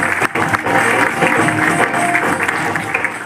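Audience applause fills a Gujarati comedy play, a dense wash of clapping that holds steady throughout, with a faint crowd murmur mixed in.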